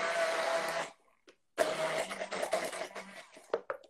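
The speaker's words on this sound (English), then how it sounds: "Immersion blender." An immersion blender whirs through a sauce of jalapeno, salt, garlic, cilantro, lime juice and Greek yogurt, running loud and steady for about a second, pausing, then starting again with a rougher, changing churn.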